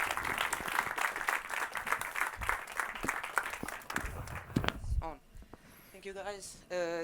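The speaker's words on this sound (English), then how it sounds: "give them all a warm round of applause" Warm audience applause for panelists at a literature festival discussion, dense clapping for about five seconds, then fading as a voice begins speaking.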